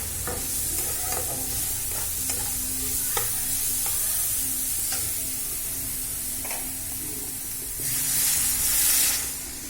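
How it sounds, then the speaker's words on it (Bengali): Star fruit chutney sizzles and hisses in a pan with stirring scrapes, then water poured in near the end sends up a louder, brighter rush of steam. "আমি এর মধ্যে জল অ্যাড করে দেবো"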